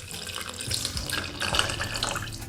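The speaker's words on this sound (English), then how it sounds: "Add in some of the stock." Stock poured into a blender for a spicy chicken sandwich sauce, a close, continuous splashing liquid stream with gurgling that runs unbroken for a couple of seconds.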